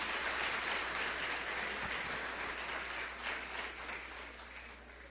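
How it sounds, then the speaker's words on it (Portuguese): Congregation at a church service applauding together, a steady dense wash of many hands clapping at even strength throughout and tapering slightly toward the end, with no talk over it. "Uma salva de palmas para nossos irmãos aí"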